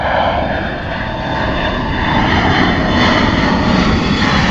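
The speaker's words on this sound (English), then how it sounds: "Very steep climb for the KLM Embraer." A KLM Embraer jet climbs steeply after takeoff from Bristol Airport, its engine roar loud, broad and steady throughout, with no speech.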